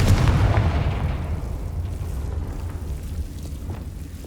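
Confringo fire spell cast in Hogwarts Legacy, a heavy booming blast that rolls and decays into a low rumble over several seconds.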